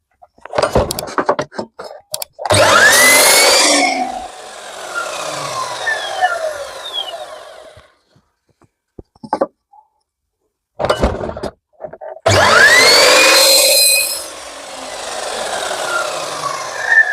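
A power tool cuts through a wooden board in two loud bursts, each a few seconds long, with a quieter rasping stretch between them and brief clatters in a short pause.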